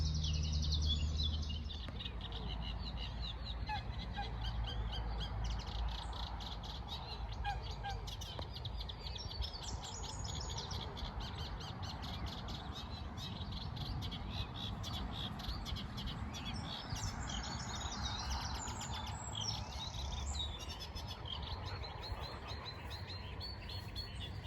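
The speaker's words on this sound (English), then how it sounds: "these reeds are a stronghold for reed bunting and reed warbler, which is what we can just hear in the background now" Reed buntings and reed warblers sing faintly from a reed bed by a lake in early summer, giving scattered chirps and chattering phrases at a distance over a low outdoor rumble.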